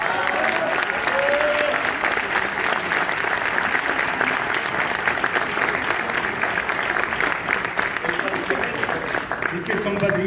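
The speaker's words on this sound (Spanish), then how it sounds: "Erika Saba y Chumel Torres, un aplauso." An awards-event audience applauds as two guests are called to the stage, a loud, sustained burst of dense clapping that carries on for about ten seconds with faint background voices mixed in.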